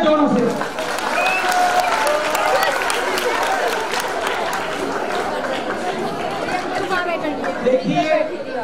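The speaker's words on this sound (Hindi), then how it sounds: "तालियां जोरों से बजाइए, तालियां जोरों से" An audience at a quiz show celebrating Dev Anand's birthday applauds strongly, with sustained clapping under crowd chatter and voices, swelling briefly again near the end.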